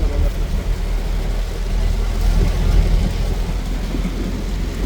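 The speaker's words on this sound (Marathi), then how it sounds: "वो पाऊस बघा काय" Heavy rain pours steadily with a deep low rumble of thunder beneath it, a dense continuous wash of noise recorded outdoors in a downpour, with no clear speech over it.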